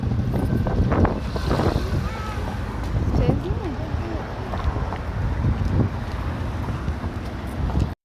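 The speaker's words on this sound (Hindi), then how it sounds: "कितनी हवा चल रही है और कितनी ठंडी है हवा, बहुत ठंडी हवा है यार" Strong, cold wind blows steadily outdoors, buffeting the microphone with a loud, continuous rumble that lasts the whole stretch. Faint voices can be heard underneath.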